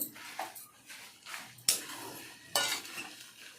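Curry leaves tossed into a pan of dry-roasting red chillies and coriander seeds in oil for karivepaku podi, with several scraping stirs and sharp utensil knocks against the pan, close and moderately loud, no voices.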